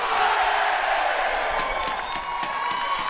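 A wrestling arena crowd at a TNA Hard Justice 2009 event cheers and roars in a steady wash of noise, with scattered whoops and claps rising through it and no clear talk on top.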